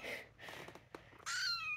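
A pet cat meows indoors, a few drawn-out cries close to the listener, the last one loud and rising, with no talk over them.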